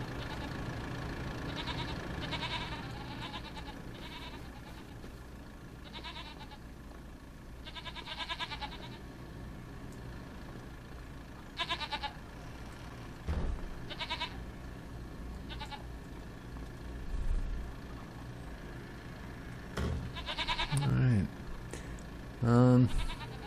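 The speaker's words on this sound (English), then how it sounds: "We now have 120 more goat than we had before." Goats on a Farming Simulator 25 homestead farm bleat repeatedly in bursts, some close and loud, others fainter, with a voice talking over them for much of the time.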